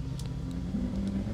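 A snowmobile crawls slowly off snow in a Minecraft mod, its engine giving a steady mid-pitched drone with faint revving swells and a few light clicks, heard close and alone.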